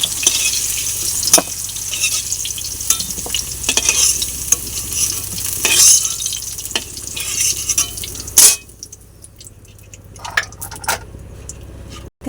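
Eggplant frying in hot oil for a Bengali potato-eggplant rohu fish curry gives a loud, bright sizzle with stirring scrapes and clatters against the pan, then quiets to a softer hiss near the end.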